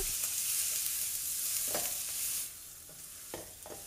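Food sizzles in a hot pan while a utensil scrapes and stirs, a few distinct scraping strokes over the steady frying hiss.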